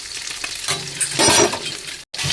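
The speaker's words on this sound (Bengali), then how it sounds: "দেখো মাছগুলো এক পিঠ ভাজা হয়ে গেছে, আর এক পিঠ ভাজা হচ্ছে।" Fish frying in hot oil in a home kitchen pan, a steady close sizzle and crackle that swells loudly midway, with a brief stir-like clatter and a momentary drop-out near the end.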